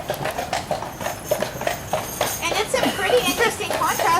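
Horses pulling trolleys clip-clop along a street in Alaska, a steady rhythm of hoof strikes at moderate distance, mixed with crowd chatter and children's voices in the background.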